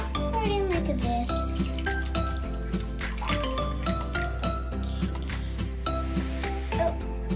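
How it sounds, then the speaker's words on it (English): Cookie dough ingredients being poured and dripping into a mixing bowl with butter and sugars, soft wet drips and squishy liquid sounds close by, under a child's speech throughout. "Oh, it's dripping."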